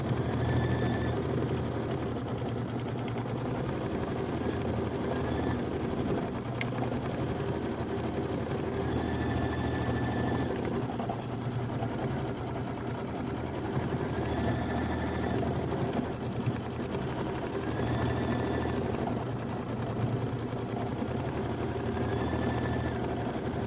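A domestic sewing machine stitches a traditional pieced quilt block with a steady, moderately loud motorized whir. Brief pauses and restarts recur every few seconds, and no one speaks.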